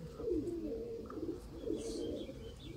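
Chapra and old Sialkoti breed pigeons coo softly in a breeding setup, with low throaty rolling coos repeating a few times, faint and fairly close against quiet background noise.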